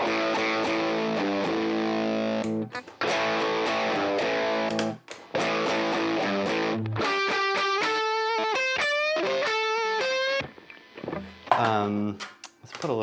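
Electric guitar played through a high-gain pedalboard, heavily distorted chords and single-note lines ringing loud and continuous, with short pauses between phrases.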